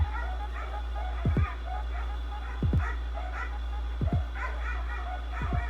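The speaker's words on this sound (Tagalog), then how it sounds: "Maingay yung aso, best." A dog barks four times in short doubled bursts, spaced evenly and fairly close, over a steady low hum while someone talks between the barks.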